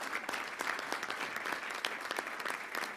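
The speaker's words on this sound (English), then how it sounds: "So if I may indulge a round of applause for this team." A round of applause for a team at a board meeting, steady dense clapping from an indoor audience throughout, moderately loud with no talk over it.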